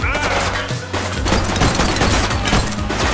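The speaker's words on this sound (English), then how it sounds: "He's shooting!" Loud, rapid bursts of gunfire from a shooting suspect in The Precinct video game, a dense crackle of close shots with a brief pause before the firing resumes.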